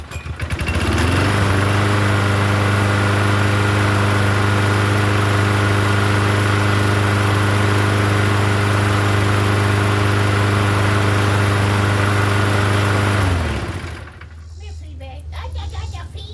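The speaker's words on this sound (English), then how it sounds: "It's running. I don't know how good it's running, but it's running." A Toro Recycler lawn mower repowered with a Quantum engine runs at a steady, loud drone for about twelve seconds, then cuts off, leaving quieter background noise with a voice underneath.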